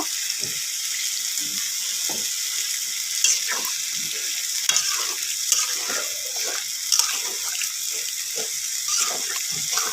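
Loud, steady sizzling as water is added to chicken frying in hot oil, with occasional scraping and stirring clatter throughout.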